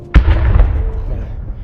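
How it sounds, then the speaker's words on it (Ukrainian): A single heavy boom of artillery fire hits near the front line in Ukraine, a sudden loud thud followed by a rolling rumble that fades over about a second. "Це артилерія їбаша"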